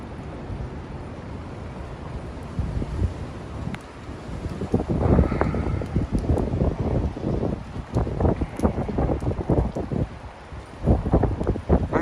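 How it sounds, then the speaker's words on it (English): Gusty wind blows outdoors beneath a canopy at a New York emergency scene among high-rise construction, steady rushing with buffeting low rumbles and microphone wind noise that swell louder in the second half. "The wind's picking up"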